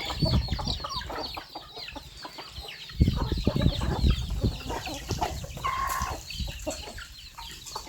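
Chickens cluck steadily nearby in a busy farmyard, their calls overlapping one another against continuous background noise.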